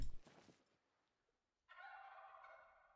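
Wild turkey gobbling in the hunting game theHunter: Call of the Wild, a short burst of a gobble at the start, then a pause before a longer, clear rattling gobble that fades out, alone with no talk.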